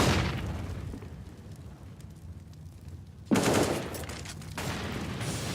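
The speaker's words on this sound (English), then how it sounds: "Hobbit trying to cover the sound of him dropping with the AK-47" Bursts of AK-47 rifle fire during a professional Counter-Strike match on the Cobblestone map, loud and dense, with a sharp onset of heavier shots partway through over continuous game ambience.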